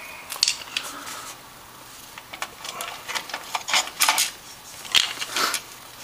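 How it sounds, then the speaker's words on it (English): Small screws being driven into a PC motherboard during a computer build: irregular metallic clicks, ticks and scrapes of a screwdriver and screws, close and fairly loud, with no talking. "Now we're gonna put the screws in."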